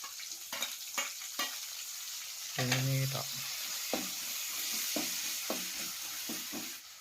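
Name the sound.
food frying in a pan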